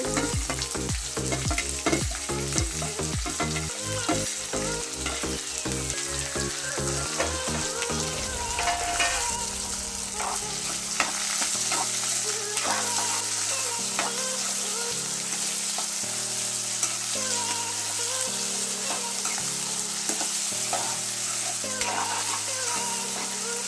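Onions sizzling steadily in a pan for North Karnataka girmit, with rhythmic scraping and stirring strokes repeating throughout, close and continuous.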